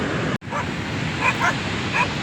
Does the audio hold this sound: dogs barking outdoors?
yes